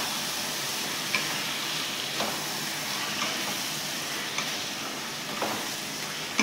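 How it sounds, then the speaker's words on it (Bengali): Chicken fries in a pan with a steady, even hiss, while a spoon stirs it and gives a few soft scrapes and knocks at spaced intervals, with no voices. "এবার চিকেনটাকে খুব ভালো করে আমার কষতে হবে।"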